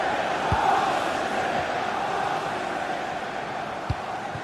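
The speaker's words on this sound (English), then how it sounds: "just listen to the fans. They're in great voice" Football stadium crowd in a video game match, a steady dense roar of fans cheering and chanting throughout, broad and sustained with no single voice standing out.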